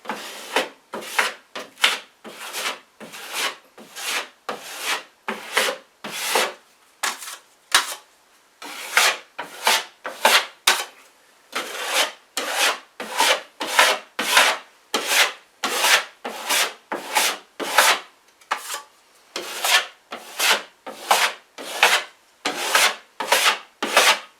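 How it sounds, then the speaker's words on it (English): A drywall compound knife repeatedly presses and scrapes joint compound over a patch, giving dozens of close, rhythmic rasping strokes in quick succession, each a short gritty swipe with brief pauses between. "push it in firmly with your compound knives. Pull out the excess."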